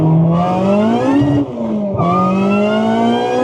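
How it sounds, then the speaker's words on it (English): A 370-horsepower supercharged K20 Type R engine in a 2000 Acura Integra revs hard and close, its rising tone dipping briefly before climbing again, loud and alone with no talk. "370 horsepower supercharged K20 Type R."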